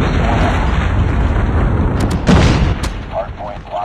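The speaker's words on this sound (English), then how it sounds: "Friendly predator missile inbound." A predator missile strike from a Call of Duty multiplayer match lands as a sharp, loud blast with rumbling aftershock, among gunfire and battle noise, with a game announcer voice heard briefly.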